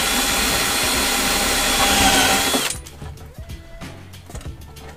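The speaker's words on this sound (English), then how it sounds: "I'll just get my hole cutter and drill the suitable size hole for that fuel adapter" A loud, steady power drill whine as a hole cutter bores a hole for a diesel heater fuel adapter in a campervan, grinding for a few seconds, then cutting off abruptly, leaving quieter clicks and handling noises.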